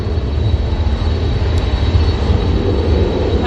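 A Ryanair jet departing, its engines giving a steady, loud low rumble that holds evenly throughout with no voices present.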